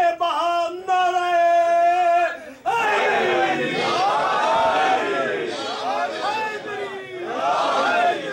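A crowd at a Muharram majlis chants religious slogans in loud, overlapping unison, rising in repeated waves; a sustained leading voice opens the chant before the gathering joins in.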